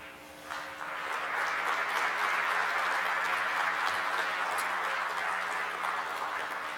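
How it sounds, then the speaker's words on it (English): Audience in a conference ballroom breaks into applause at the end of a talk, starting softly then swelling into a steady, even wash of clapping that holds at moderate level, heard from a distance. "Hold for shameless applause."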